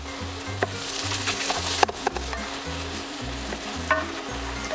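Garlic sizzles loudly in a hot pan of cooking mushrooms, a dense continuous frying hiss, with occasional clicks and scrapes of stirring and a pulsing low hum underneath.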